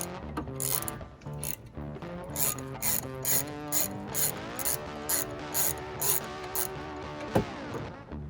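Ratchet wrench clicking as it turns a brake bolt on a 2009 Dodge Charger during a rear brake replacement, with close, loud bursts of rapid ratcheting in a repeated rhythm of short pulls.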